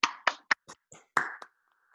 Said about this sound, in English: I think we need a round of applause.